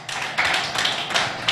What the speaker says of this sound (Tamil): உங்களுடைய உற்சாகமான கைத்தட்டலோட